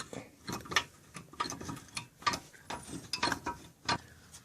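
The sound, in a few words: working Mercedes brake caliper loose with a shortened screwdriver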